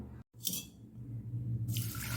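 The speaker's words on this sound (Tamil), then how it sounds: "பாசிப்பருப்பு ரெண்டையும் தண்ணி ஊற்றி ஊற வச்சிடலாம்" Water poured over moong dal in a bowl to soak it for wheat porridge: a splashing pour, then a steady trickle and a second stronger gush near the end, close by, with no talk.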